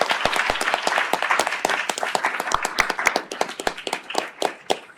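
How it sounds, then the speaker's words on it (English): Symposium audience giving the speakers a round of applause: dense clapping from many hands with sharp individual claps standing out near the mic, sustained then thinning toward the end. "And can we get a round of applause for all of the speakers today for the Admin Symposium?"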